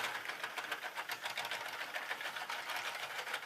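A pericyclic gearbox running at high torque gives a fast, steady mechanical whirring chatter with rapid regular ticking, constant and moderately faint throughout.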